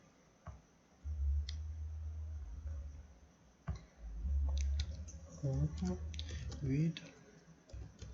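Computer keyboard typing in short bursts of quick clicks, close and moderately quiet, with a person speaking over part of it.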